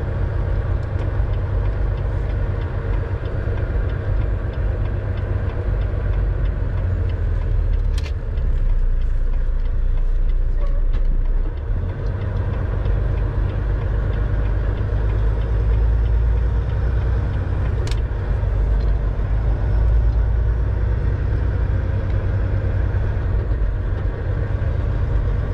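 A new semi-truck tractor drives along a road near a small town close to the US border, its engine a steady low drone and road rumble throughout, loud and continuous with no talking.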